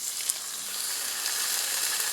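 White fish fillets sizzle in hot oil in a pan as they lightly brown, giving a steady, close, bright frying hiss with no talk.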